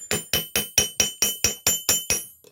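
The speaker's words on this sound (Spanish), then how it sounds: "Entonces lo martillan ahí," A hammer strikes wire to flatten it for a homemade crochet hook, ringing out in ten evenly spaced, sharp metallic blows, each leaving a short clinking decay, loud and close with no voices.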